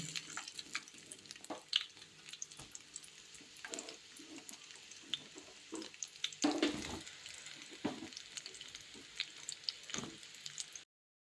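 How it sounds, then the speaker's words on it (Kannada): Onions frying in a little oil in a pan for a Kannada egg and chicken curry, giving a soft, steady sizzle with scattered crackles and clinks of stirring, quiet and close throughout. "ಒಂದು ಬಾಣಲಿಗೆ ಒಂದು ಸ್ವಲ್ಪ ಎಣ್ಣೆ ಹಾಕೊಂಡಿದ್ದೀನಿ ಹಾಗೆ ಇವಾಗ ಈರುಳ್ಳಿ ಹಾಕ್ತಾ ಇದ್ದೀನಿ"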